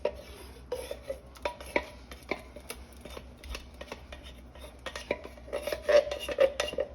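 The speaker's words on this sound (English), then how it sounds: "You just want to mix that around." A spoon stirs chili hot beans in a metal pot, with irregular close clinks and scrapes against the pot, louder near the end, in a home kitchen.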